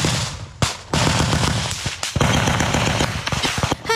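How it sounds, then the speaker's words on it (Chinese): Rapid bursts of automatic gunfire from Ukrainian 3rd Assault Brigade soldiers in combat near Bakhmut, loud and close, with repeated rattling volleys broken by short pauses and sharp single cracks. "乌军第三突击旅士兵不断开枪搏火"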